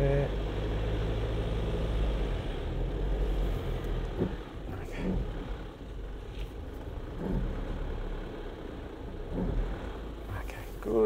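A 4WD SUV engine drones steadily as the vehicle accelerates off-road through slippery mud, a continuous low rumble that holds throughout with slight surges.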